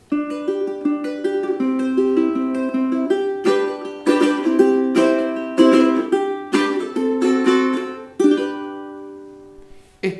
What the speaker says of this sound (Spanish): Este es un ukelele tenor de 26 pulgadas.